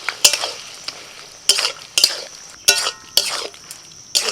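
Ridge gourd frying with lentil paste in a pan, stirred in sharp separate strokes: spatula scrapes and metallic clinks ring out about every half second over a soft background sizzle, close and clear.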